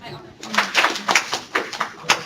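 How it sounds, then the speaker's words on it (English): A handful of separate, sharp claps from a workshop audience ring out in an uneven rhythm, loud and close, with a bit of talk mixed in. "Okay, clap."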